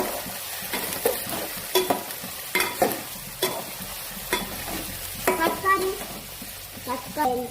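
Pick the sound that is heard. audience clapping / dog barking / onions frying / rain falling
onions frying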